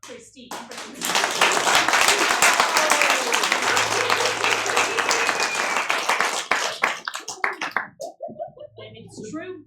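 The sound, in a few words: audience applause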